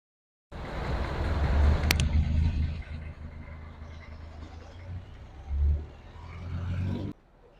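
Jeeps on a road pass with a low engine rumble and rising drone that swells and fades, a second vehicle surging past nearby before the sound cuts off.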